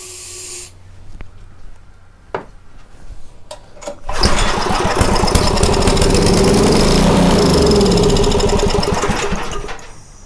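Light clicks and brief mechanical rattles lead into a Homelite 2500 watt generator catching on starting fluid. Its small engine roars up loud and close, then runs on steadily with no talking.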